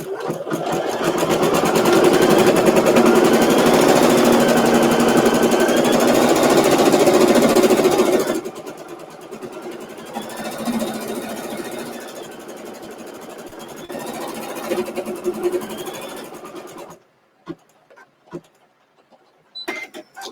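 An embroidery machine stitches the first thread for jug jewelry with a fast, dense mechanical chatter for about eight seconds, then runs quieter and intermittently before stopping, leaving a few clicks.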